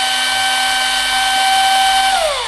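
A cordless drill running on a motorcycle battery whines steadily and loudly, then its pitch drops as it winds down at the end.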